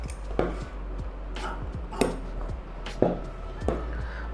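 Scissors cutting blouse fabric on a work surface, heard as a nearby series of crisp snipping thuds spaced about a second apart over a faint background hum.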